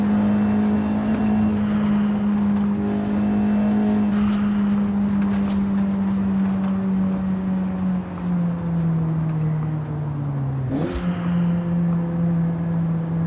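In Forza Horizon 5, a fully customized 2000 Nissan Silvia S15 Spec R engine hums loud and steady under acceleration, its pitch sagging slowly before a sharp shift near the end, with no talk over it.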